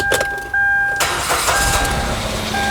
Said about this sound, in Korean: 이제 시동을 걸고 엔진룸을 한번 살펴볼게요